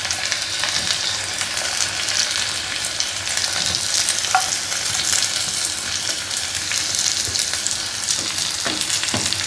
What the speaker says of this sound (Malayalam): ഇനി ഇതിൻ്റെ ലാസ്റ്റ് പണി നമുക്ക് കുറച്ച് ഉള്ളി മൂപ്പിച്ച് ഇതിൻ്റെ മുകളിലേക്ക് ഇടാം